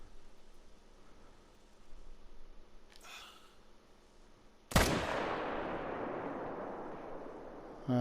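A single gunshot cracks loudly while a gray wolf is hunted in a video game, followed by a long fading echo. A fainter shot sounds a couple of seconds earlier, and another sharp report comes at the very end.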